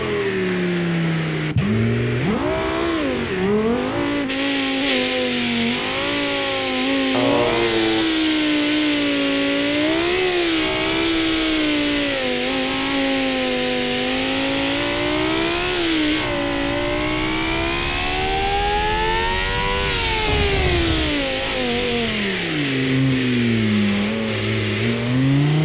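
Daytona prototype race car in a racing video game, its very loud engine revving and rising and falling through gear changes for about half a minute, with no talk.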